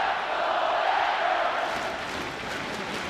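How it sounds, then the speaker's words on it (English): A hockey arena crowd in downtown Rochester roars in a steady, dense wash of cheering, loud and sustained, with a voice faintly beneath. "This crowd is in a frenzy right now here in downtown Rochester"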